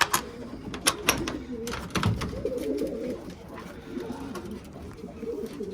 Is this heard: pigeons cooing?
yes